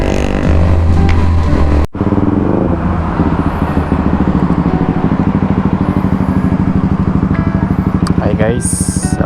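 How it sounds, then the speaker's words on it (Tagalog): A 2021 Kawasaki ZX-6R motorcycle on a night ride, its loud exhaust pipe rumbling steadily and close by, with a throttle blip near the start and a brief cutout before the engine drone carries on. "Grabe, ingay yung pipe niya."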